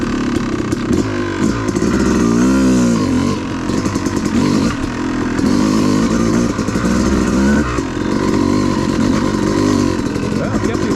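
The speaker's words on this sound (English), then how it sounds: "The bike leaned over, full throttle." Off-road motorcycle on a mountain OHV trail, engine held at full throttle while leaning through turns, a loud continuous rasping drone with rising and falling revs throughout, close to the rider.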